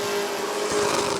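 Stock cars race side by side at Rockford Speedway in a Sportsmen heat. Their engines make a steady, loud droning roar with a constant pitch through the short stretch, and no one speaks.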